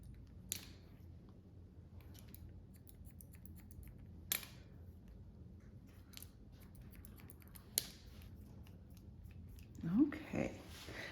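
Hair shears snip through hair during a pixie cut, giving three sharp, isolated cuts spaced a few seconds apart against a quiet salon background with faint rustling.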